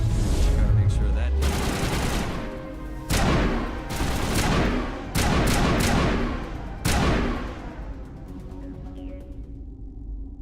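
Gunfire in the sci-fi shooter game Mass Effect, with several loud bursts of shots arriving in clusters and echoing off, under a faint voice between volleys.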